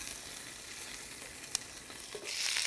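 Endives frying in a pan on the stove, a steady close sizzle with a crackling hiss and a single sharp pop partway through, no voices.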